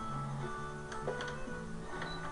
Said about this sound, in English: go ahead and sew it with a straight stitch